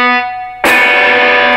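Distorted electric guitar played in a single-note cutting style: a quieter tone fades, then a loud, harsh note is struck and rings on with long sustain and no muting.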